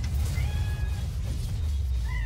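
A cat gives a couple of close, drawn-out meows, the second a short rising call near the end, over a steady low background hum.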